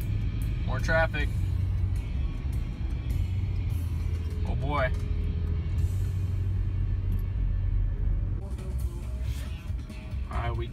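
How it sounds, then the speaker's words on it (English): Slow-moving San Francisco city traffic rumbles steadily around a stopped car, with engines idling and passing and a couple of distant horn-like squeals, while people talk over it. "More traffic."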